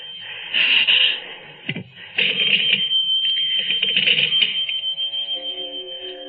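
An old-fashioned telephone bell rings in a quiet room: several bursts of bright metallic ringing separated by short gaps, ending in a fading trill, heard clearly with no talking.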